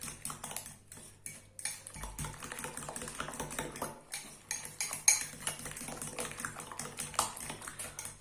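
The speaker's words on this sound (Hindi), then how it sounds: "ये सारी चीजें डाल के इसको अब हम अच्छे से मिक्स कर लेंगे" Maggi noodle omelette batter with salt and chili flakes mixed in a bowl, a rapid run of spoon taps and clinks against the bowl, close and steady throughout.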